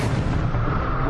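A supernova explosion sound effect, a dense, sustained low rumbling roar that fills the whole moment at steady loudness with no pauses.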